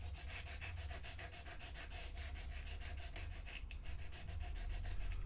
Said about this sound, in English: How's the sound of sanding down a ULA chip?